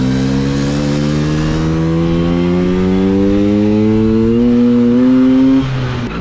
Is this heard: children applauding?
no